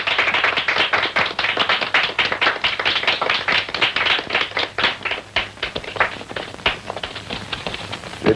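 A crowd applauds a karate winner, with dense, bright clapping that runs continuously and fairly loud throughout, thinning slightly toward the end.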